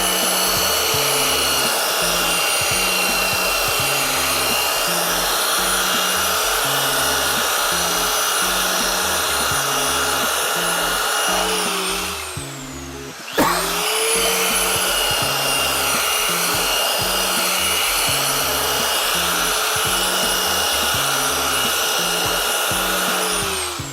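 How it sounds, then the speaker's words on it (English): A belt sander working a wooden serving board on a bench, a loud continuous motor whine and grinding rub that pauses briefly midway, then resumes at full strength, with no talking. "Now, even if I sand it with a belt sander, I want to go to finer sanders afterwards"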